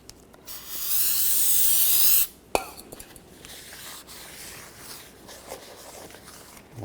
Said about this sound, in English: We'll just take some brake parts cleaner, rinse it down, and wipe it with a rag.